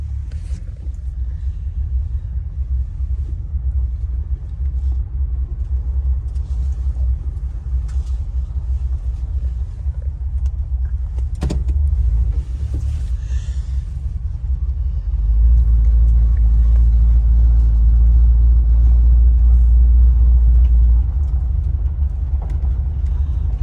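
A car out on a test drive after a DIY Flex Seal vinyl roof job, its steady low engine and road rumble droning close throughout and swelling louder for a stretch near the end.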